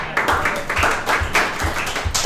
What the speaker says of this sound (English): can we get a round of applause for our helpful fellows?